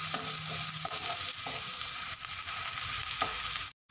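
Chopped onion and potatoes sautéing in a pan for batata poha give a steady close sizzle with occasional stirring scrapes, no voices, and a brief dropout near the end.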